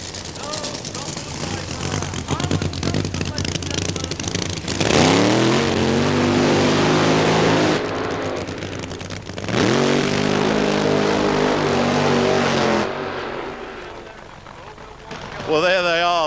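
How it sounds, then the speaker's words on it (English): Two drag racing cars at Santa Pod do a burnout: loud close engine roars rise and hold in long bursts, dropping between them, with a commentator's voice running over the din. "the two cars coming out of that London city fog of a burnout"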